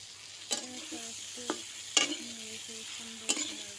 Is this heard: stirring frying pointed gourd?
yes